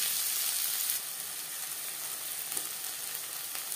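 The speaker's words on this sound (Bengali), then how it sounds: "3 চামচ রিফাইন্ড অয়েল গরম করে নেওয়ার পর দিয়ে দিলাম পেঁয়াজ" Chopped onions, four or five of them, frying in three spoons of hot refined oil: a steady, close hiss of sizzling that eases slightly after the first second and carries on evenly, with faint stirring scrapes.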